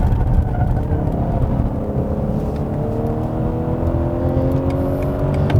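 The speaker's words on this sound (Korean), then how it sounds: "다운시프트를 쳐주면서 감속을 할 때도 버벙버벙 하는 이런 팝콘 소리가 납니다" A BMW 840i Gran Coupe engine drones steadily close by, with rising and falling revs throughout; no distinct pops stand out clearly over the continuous exhaust roar.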